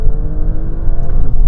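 A Jeep Grand Cherokee SRT or Alfa Romeo Stelvio Quadrifoglio performance SUV in track mode revs its engine hard, a loud, steady, close-up roar with a rising growl and no talk over it.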